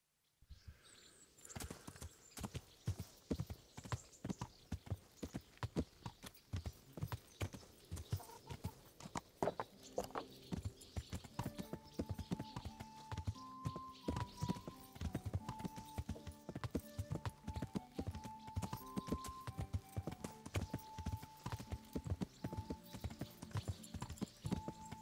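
Steady clip-clopping hooves of a ridden horse in the video game Kingdom Come: Deliverance, travelling a road through woods, keep a brisk continuous rhythm throughout, with a soft musical tone joining partway.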